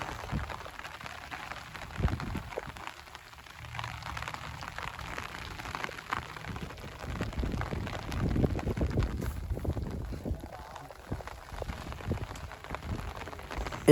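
Steady rain patters on a pond surface during a snakehead fishing outing, a continuous soft hiss with scattered drops and some low wind rumble, no voices.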